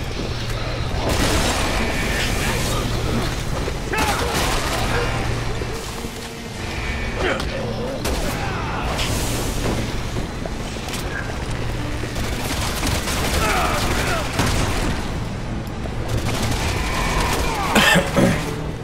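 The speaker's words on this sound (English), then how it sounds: "Mobs shooting at us with guns." Enemy mobs firing guns in Resident Evil 6, a continuous din of scattered shots and booms over a steady low rumble, with a voice talking over the action.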